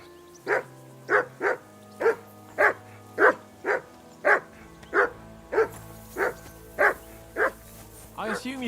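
A dog in Kingdom Come: Deliverance 2 barks over and over at an even pace, roughly a dozen loud, close barks over a soft game ambience, ending in a quicker cluster of yaps.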